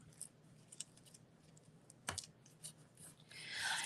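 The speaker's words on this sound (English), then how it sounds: "you don't want the tails too long, so I'm just going to trim them down a little bit" Scissors trimming the tails of a ribbon on a handmade card, a few quiet snips near the microphone, with one sharper cut midway and rustling at the end.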